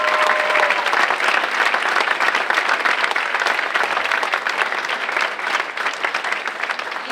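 A large audience gives a long, loud round of applause at a high school senior awards and scholarships event, thick continuous clapping that eases only slightly toward the close.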